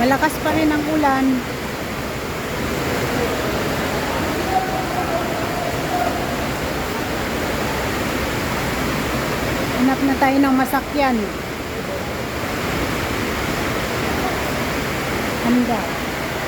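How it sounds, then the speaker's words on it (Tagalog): Heavy rain pours steadily in an outdoor street setting in Tagbilaran City, a constant broadband hiss filling the whole stretch, with someone speaking briefly over it and faint passing traffic sounds. "malakas pa rin ang ulan"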